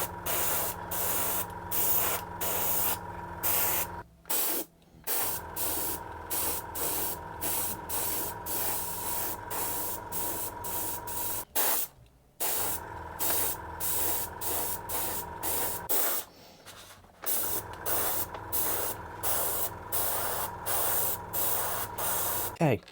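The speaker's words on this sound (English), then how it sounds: "I've just changed to my usual airbrush now" An airbrush sprays chrome paint onto a 3D-printed Batarang in short repeated hissing bursts with brief gaps and a few longer pauses, close and fairly loud over a faint background hum.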